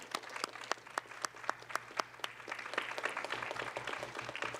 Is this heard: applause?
yes